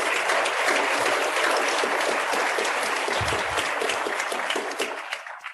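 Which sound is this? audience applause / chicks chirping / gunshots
audience applause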